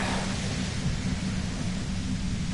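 Steady, dense static hiss in the video game Disco Elysium, loud and unbroken throughout, with a low rumbling undertone and no voices.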